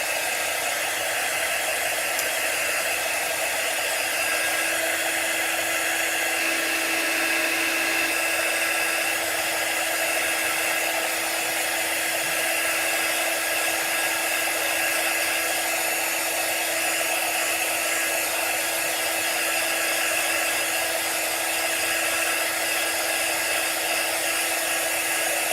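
A hair dryer blows steadily and loudly without a break, drying chalk paint, a constant close whooshing roar.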